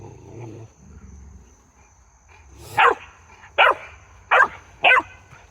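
A dog lets out four sharp, loud barks in quick succession after a few seconds of low growling and rumbling, standing close by with no talk over it.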